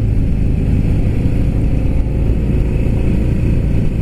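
A 2018 Harley-Davidson Fat Bob accelerates in first gear, its V-twin engine close and loud under heavy wind rush, pulling steadily throughout with no talking.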